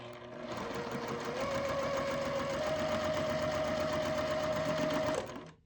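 A sewing machine runs continuously while chain piecing quilting fabric for a Halloween mug rug, a loud, close, steady mechanical whir of rapid stitches that holds for about five seconds, then stops abruptly.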